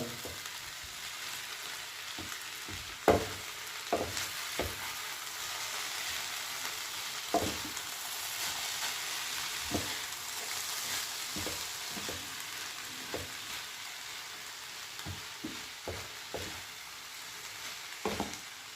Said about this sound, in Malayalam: ഇനി ഇത് നമുക്ക് ഇളക്കാം നന്നായിട്ടൊന്ന് ഇളക്കുക